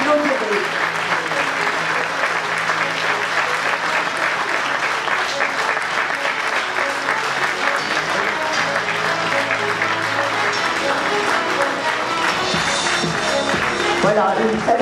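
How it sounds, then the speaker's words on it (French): Steady audience applause fills a French municipal campaign meeting in Livron, dense clapping holding level throughout with faint voices mixed in. "Vous les applaudirez"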